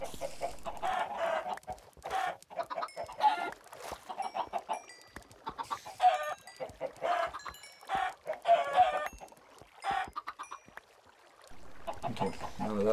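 Chickens cluck in a coop, with a rooster crowing among them; bursts of clucking and calls come close and fairly loud in an irregular rhythm, with someone speaking now and then.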